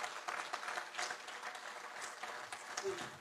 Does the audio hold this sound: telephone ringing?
no